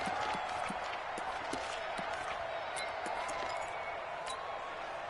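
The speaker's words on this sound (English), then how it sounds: "the crowd getting into it as we come up on a big third down" A stadium crowd at a football game roars with sustained cheering ahead of a big third down, a dense steady wash of voices with scattered claps and whistles, distant and continuous throughout.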